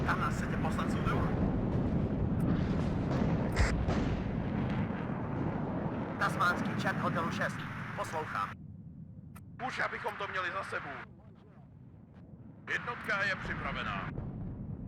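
Missile launches, gunfire and booming explosions from the WARNO war strategy game rumble in bursts beneath someone talking over them.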